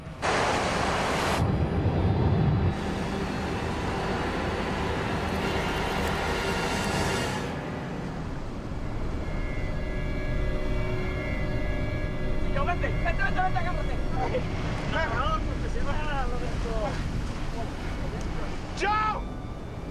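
A strong water current with surging waves rushes in a continuous loud broadband roar that swells at times, and faint voices are heard beneath it toward the end.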